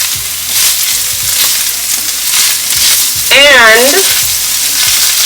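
Flaked saltfish sizzling in a frying pan while being stirred, a close, loud crackle with soft scraping strokes; a brief spoken word and a short whistling tone cut in near the end.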